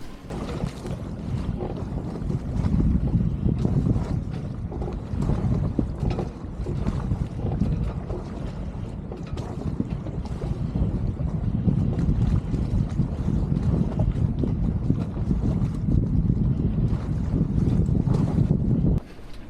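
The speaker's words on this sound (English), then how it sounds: "Wind's picked up again, we're at 16 now." Strong, gusty wind roars continuously across a sailboat at sea, with heavy low buffeting on the microphone and rushing water beneath, no voices heard.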